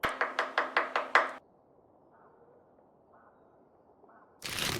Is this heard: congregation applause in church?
no